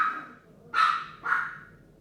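Two sharp dog barks ring out about half a second apart, close by and fairly loud against a quiet indoor background, with no other sounds of play audible.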